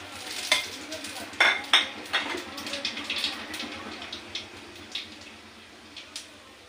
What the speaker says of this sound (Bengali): সব রকম দিয়ে একটু ফোড়ন দিয়ে দেবো